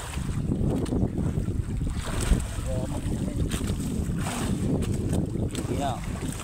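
Wind buffets the microphone while waves slosh against a moving boat at sea, a rough, continuous roar with occasional splashes and brief voices in the background.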